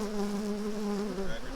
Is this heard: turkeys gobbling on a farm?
no